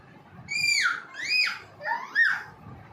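A two-year-old child imitates a small baby crying with three high, wavering wails in a row, each rising and falling, fairly loud and close.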